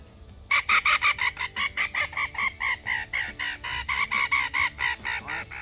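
Quick, evenly spaced fluttering squeals repeat about twenty times, loud and near, a predator call imitating a distressed woodpecker.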